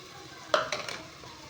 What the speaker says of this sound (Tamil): இப்போ இதில் நல்லா பச்சை வாசம் போகிற அளவுக்கு நல்லா வதக்கணும்